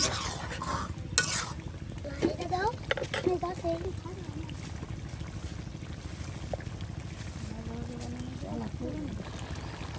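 Chicken liver and potatoes sauté in a pan for village-style cooking, with scraping stirs and a low sizzle while a voice talks over it.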